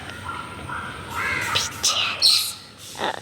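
Several parrots squawk near a coconut tree outdoors, giving a few harsh, bursty calls that grow louder toward the middle and end over a low steady background hum.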